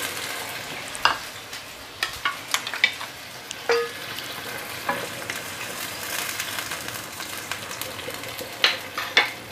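Prawns stir-fried in a pan for casseroled prawns with glass noodles: a continuous sizzle with irregular scraping and tapping strokes of a utensil against the pan, close and moderately loud.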